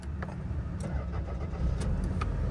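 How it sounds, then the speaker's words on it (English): Cold start of a 1990s Toyota RAV4 XA10 short-wheelbase 4x4, a brief crank quickly catching into a steady, close engine idle that grows slightly louder toward the end. "Let's give it a quick startup test."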